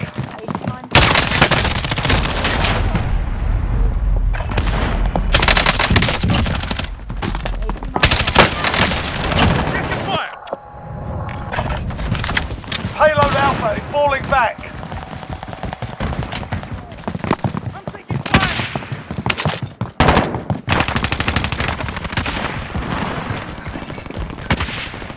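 Rapid gunfire bursts and heavy explosions from the video game Call of Duty: Modern Warfare Warzone, a Payload match, come loud and dense, with a brief lull midway and game voices calling out over the battle.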